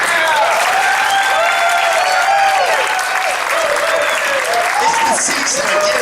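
Loud, dense audience applause fills the room at a political event held for a Tea Party Christmas gathering, steady clapping throughout with a few whistles and cheers rising above it.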